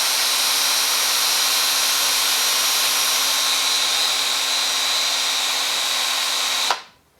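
Cordless drill running at a steady, continuous whine for several seconds at moderate loudness, then cutting off abruptly into silence.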